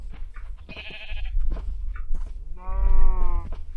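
Sheep in the Minecraft video game bleat in a few short, wavering calls, loud and close, with a player's voice briefly nearby.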